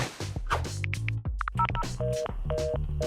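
Telephone dialing with a run of close, clear touch-tone beeps and ringing tones in a steady sequence, over a thin musical background, with no answer.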